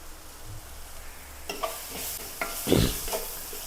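Onions, green chili, ginger and garlic sauté in a pan, a faint steady sizzle broken by a few louder stirring scrapes, the strongest one close and brief.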